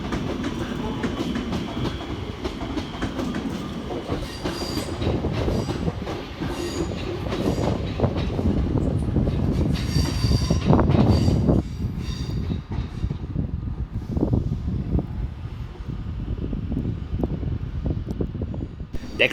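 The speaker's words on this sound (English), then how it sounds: "departing 16 minutes late with the 1416 Northern service through to Manchester Piccadilly is" Northern passenger train departing Crewe station, loud and close, with rumbling wheels, clickety-clack over rail joints and a brief high metallic squeal as it pulls out, fading somewhat toward the end.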